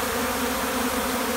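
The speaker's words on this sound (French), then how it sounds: "Regardez-moi les abeilles se garocher là-dessus." Honey bees swarming over a syrup feeder make a dense, steady buzz, close and continuous with no pauses.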